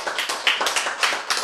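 Audience clapping in rhythmic bursts, steady and fairly close, a short stretch of group applause at a lecture hall Bible talk with no voices over it.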